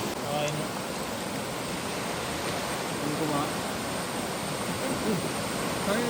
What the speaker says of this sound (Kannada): ನೀರು ಸ್ವಲ್ಪ ವೇಗವಾಗಿ ಅರಿತಿದೆ